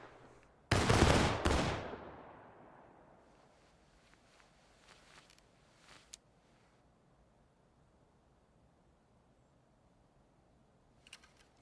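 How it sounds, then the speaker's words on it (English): A rifle volley in the Civil War game War of Rights, one loud ragged crash of many muskets firing almost together, then quiet with faint scattered pops and a few distant shots at the end. "All right, front rank. Take aim. Rise. Fire!"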